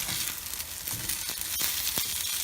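Legumes fry in olive oil in a pan with a steady, close sizzle and a few small crackles and pops.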